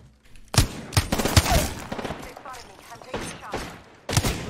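Sharp, heavy Wingman pistol shots from Apex Legends ring out in a quick cluster, then a few more spaced cracks follow, loud and close, with voices talking over them.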